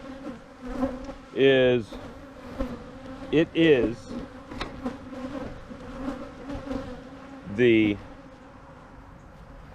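Aggressive bees swarming around a torn-down beehive, a continuous buzzing hum with several close, loud passes as individual bees zip by the microphone; a few brief words are spoken.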